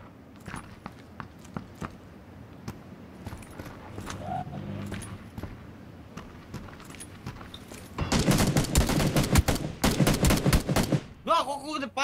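Rapid automatic gunfire bursts loud and close in PUBG squad play, following a stretch of quieter scattered shots and footsteps, ending with a brief clatter.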